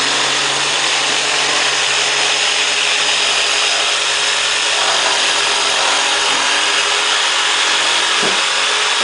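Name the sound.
jigsaw cutting a circle out of scrap wood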